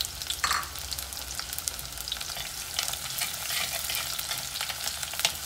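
Chopped shallots and garlic fry with mustard and fenugreek seeds in hot oil, giving a steady close sizzle with brief stirring scrapes throughout.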